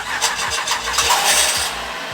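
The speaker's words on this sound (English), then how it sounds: "Fired right up." A used car's engine cranks and fires right up, with a steady close running rumble carrying through the whole short stretch, no voices over it.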